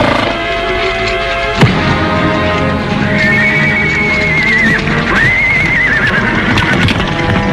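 Horses in a 1950s Western whinny loudly twice in long shrill calls over continuous clip-clopping hooves, with a sharp knock early on and a busy outdoor mix throughout.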